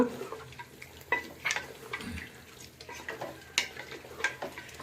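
Chicken gravy for ghee rice is stirred in a pan with soft scraping and clinking of a spoon against metal in uneven strokes, over a low simmering bubble, fairly quiet and close.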